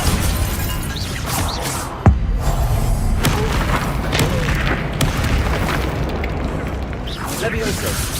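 One sharp, booming blast of the Incendio fire spell cracks out amid Hogwarts Legacy combat, set against a busy, loud battle and a player speaking throughout.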